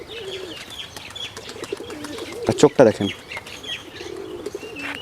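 Green Giribaz pigeons coo softly in repeated low phrases while someone speaks briefly, with a burst of wing flapping or handling noise near the middle.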